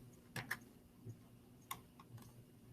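Keystrokes on a computer keyboard while a code editor is in use, a few sparse, faint clicks spaced irregularly over a quiet hum, no voices.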